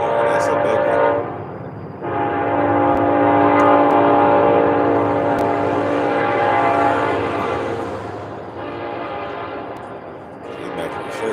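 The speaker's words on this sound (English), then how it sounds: "Here's my morning trains. This place is busy with the trains." A loud train rumbles past close by while its horn blares in long, sustained blasts that fade and return.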